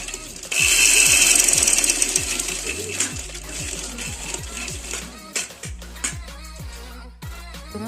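A sewing machine stitches a folded sleeve cuff, running loud and steady with an even mechanical rhythm of needle strokes that slows and stutters toward the end.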